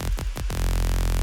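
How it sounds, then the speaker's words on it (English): A dry vocoder bass synth with no effects, a dense buzzing tone that pulses in three quick rhythmic dips before settling into a steady, loud sustained drone. "Vocoder bass"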